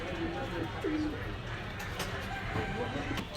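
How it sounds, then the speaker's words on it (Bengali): Pakistani pigeons coo faintly in the background, a couple of soft coos under steady room noise, while someone talks. "খুব সুন্দর একটা কবুতর"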